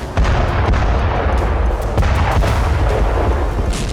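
Russian artillery strikes in Ukraine produce loud, dense blasts and booming thuds in close succession, a continuous roar of explosions with sharp cracks rising above it.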